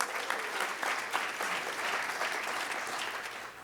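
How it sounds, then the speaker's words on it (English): An audience at the keynote of a youth bike summit breaks into sustained applause, dense steady clapping from many hands throughout, moderately loud and filling the room. "Let's give him applause,"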